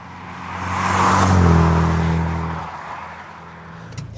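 A Hyundai Veloster Turbo SE on the motorway, its engine note rising as it accelerates past, peaking loud mid-pass with strong low harmonics, then fading away into road noise.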